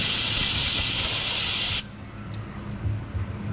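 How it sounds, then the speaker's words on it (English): Brake cleaner hisses loudly from an aerosol can onto the transmission drain plug of a 2015 Nissan Frontier Pro-4X, a close, continuous spray that cuts off abruptly partway through, leaving faint workshop noise. "We'll go ahead and hit that with the brake clean, so that way it's nice and clean."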